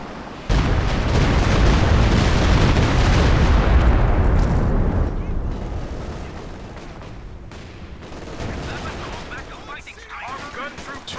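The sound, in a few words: walking Stuka rocket artillery barrage in Company of Heroes 2 video game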